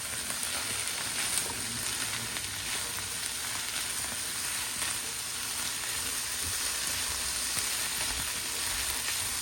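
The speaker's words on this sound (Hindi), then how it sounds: "जैसे ही हल्की सी ये वेजिटेबल्स इसमें सौते हो जाएंगे कैरेट्स एंड अनियन, तो हम बाकी के वेजिटेबल्स भी इसमें शामिल कर देंगे।" Carrots and onions sautéing in a pan for spring rolls, a steady, close, dense sizzle that holds evenly throughout with no talk.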